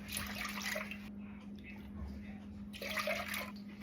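Milk poured into a pot for eggnog, a steady liquid splash running in two bursts with a quieter pause between, close by.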